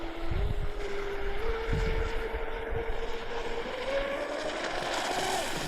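A small motor of a Proboat Veles 29 RC speedboat running on 6S power whines steadily with a rising pitch, moving across water with wind buffeting and splashing noise throughout.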